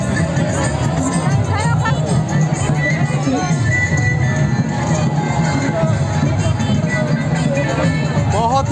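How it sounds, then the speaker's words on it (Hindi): A large outdoor crowd gathers at ITI More in Bokaro, Jharkhand, for a Dahre Karam procession, making a constant loud babble of many voices close around, with someone talking over it. "बहुत ही ज़्यादा भीड़ है"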